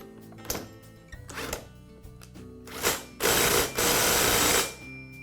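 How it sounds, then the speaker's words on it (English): An impact driver fastens the clutch back onto a Poulan chainsaw, with a few short ratcheting bursts followed by a long, loud, steady hammering run that stops abruptly, heard close up in a quiet workshop. "And I'll use the same tool and impact driver to secure it."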